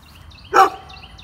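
One short, sharp bark from a dog rings out midway, clear and fairly close, with quiet background before and after. The setting is a Toyota Tundra pickup truck carrying a hot tub.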